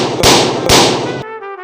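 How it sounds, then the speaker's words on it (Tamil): Two loud firecracker bursts at a celebration, each a sharp blast followed by crackling that runs for about half a second, ending abruptly in a brief tonal ringing. "வெடிச்சு விட்டானுங்கடா."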